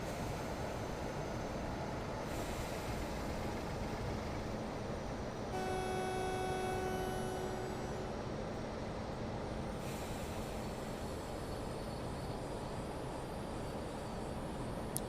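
Train rolling along rails with steady broadband rumble throughout, a sustained tonal whine or horn-like tone in the middle, no voices.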